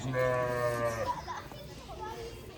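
Goats at a large zoo in Berlin, Germany, bleating once loudly and nearby with a drawn-out wavering call, followed by softer animal sounds and faint voices in the background.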